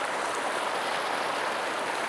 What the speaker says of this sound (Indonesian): air gemericik di sungai yang mengalir di sebuah pegunungan yang sangat indah